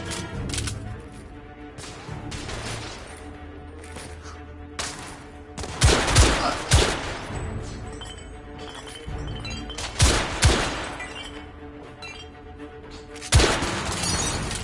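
Gunfire rings out in a PS4 video game, sharp loud shots cracking in scattered bursts over a continuous bed of game noise, with heavier volleys clustered near the middle and end and no voices.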